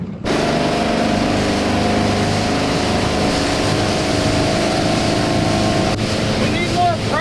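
A budget boat's engine revs up under throttle during a sea trial on open water: a loud, steady motor drone runs throughout, with wind buffeting the microphone.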